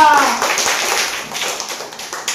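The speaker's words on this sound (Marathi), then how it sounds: "माणसासाठी टाळ्या वाजा." Schoolchildren clap together in a classroom, a dense burst of applause that is loud at first and then thins into scattered claps, mixed with their voices.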